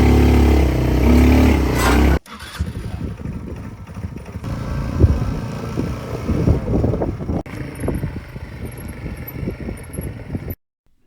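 A Polaris RZR 200 EFI ATV pulls away on a ranch, its small engine revving and droning up close, rising and falling with throttle for several seconds after a loud initial burst.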